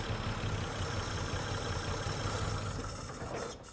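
An old car that has sat unused for thirty years runs with a steady, rough engine drone that holds level under some throttle and then tapers off at the end.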